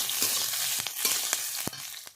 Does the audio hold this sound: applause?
no